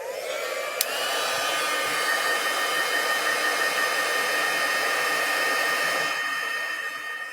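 A heat embossing tool blows hot air on a craft project with a steady, loud, close whooshing fan hum that runs unbroken throughout, with a faint click near the start.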